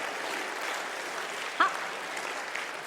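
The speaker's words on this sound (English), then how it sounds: "Why don't you give him an applause?" An audience at a live finance-and-comedy talk show in Amsterdam claps in a steady, even wash of applause, with one brief sharp sound standing out midway.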